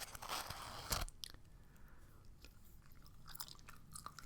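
Close, faint chewing of Extra cinnamon gum, soft wet mouth sounds with a sharper crackly bite near the start and a few scattered clicks after, no talking.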